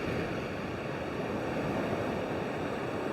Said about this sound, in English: It must be the surf.